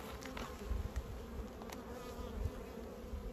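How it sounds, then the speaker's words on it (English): Bees buzz softly on heather nearby at Ringinglow, a continuous hum with individual insects droning closer and fading, no voices. "There's too many bees on there, huh?"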